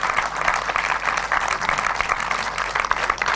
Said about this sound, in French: merci de faire un torrent d'applaudissements pour Stéphane Meunier, le réalisateur, et Laurent Dodge